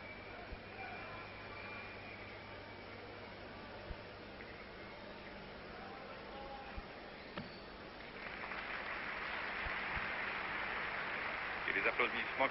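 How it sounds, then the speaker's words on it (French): A distant arena crowd applauds a Mongolian gymnast at the 1980 Olympic women's all-around gymnastics final. A soft, hissy wash of applause rises in the second half over a quiet, crackly broadcast background. "les applaudissements que vous entendez vont à une concurrente que vous ne voyez pas, qui est une représentante de la Mongolie"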